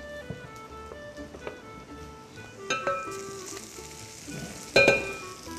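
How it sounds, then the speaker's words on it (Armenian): Walnuts frying together with sautéed onions in a pan, giving a steady close sizzle with scattered pops and stirring scrapes, plus a louder clatter near the end. "Սոխառածի հետ տապակենք ընկույզը"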